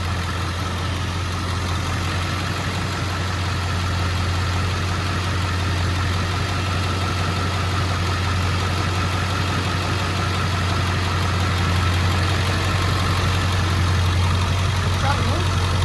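Ford F250 Super Duty truck engine idling steadily in drive with a clutch problem, a loud, constant low rumble with voices talking over it.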